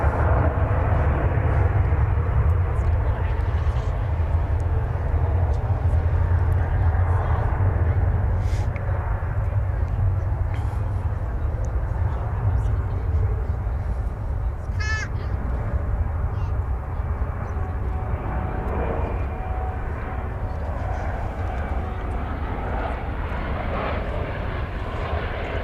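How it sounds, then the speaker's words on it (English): An American Airlines Boeing 787 arriving from Barcelona at DFW Airport makes a steady, continuous engine rumble, fairly loud and sustained, with faint voices in the background. "We have an American Airlines 7878 arriving from Barcelona, flight 193."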